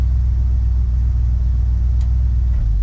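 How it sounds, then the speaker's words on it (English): Car engine at high idle with the choke on, a loud, steady low rumble held close and constant with no talking, plus a faint tick near the end. "It's kind of in a high idle, the choke's on."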